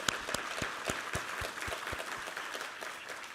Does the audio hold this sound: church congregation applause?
yes